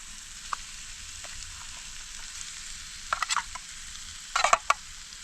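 Spam being fried and mashed in a camp pot on a solo bikepacking overnight, a faint steady sizzle with a few scraping clicks and stirring bursts near the middle and end, no talking.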